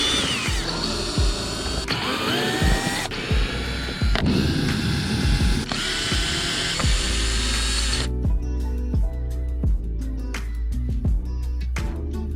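Power tool undoing bolts and nuts on a Toyota GR86 bumper, loud buzzing and ratcheting bursts of varying pitch, then a stretch of clicks, a low hum and small mechanical rattles.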